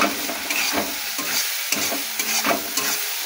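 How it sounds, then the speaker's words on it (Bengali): Masala paste stirred into fried onions in a frying pan, a steady sizzle broken by repeated scraping strokes of the spoon, close and fairly loud, with no talk. "বেশি নাড়াবো না, হালকা করে একটু নাড়িয়ে নেব"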